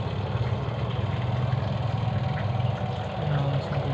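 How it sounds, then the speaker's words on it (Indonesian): A washing machine's spin motor (dinamo) runs after being tapped back to life during a repair of a drum that would not turn, giving a steady low mechanical hum and whir that holds constant throughout without any talk. "Dinamo mesin cucinya berputar."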